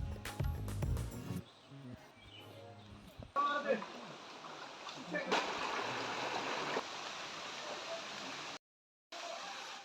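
Suptodhara waterfall at Sitakunda roars from a distance as a steady broadband rush of water, preceded by a brief burst of other sound and a short dropout near the end.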